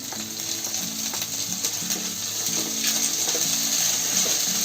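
Ginger garlic paste frying with onion and curry leaves in oil, a steady sizzle with a rhythmic mechanical rattling hum underneath, close and even throughout.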